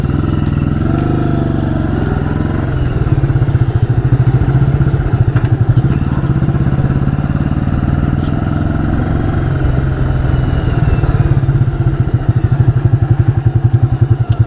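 A 1985 Yamaha Virago motorcycle engine runs steadily while riding toward Montauk, a loud continuous low rumble with pulsing throb, rising and falling with throttle, plus wind and road clatter throughout.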